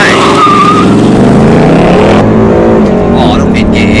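A Ford Mustang V8 5.0 55th anniversary edition roars close up, its engine note climbing through gears with rising harmonic sweeps and a tire squeal, while someone talks over it.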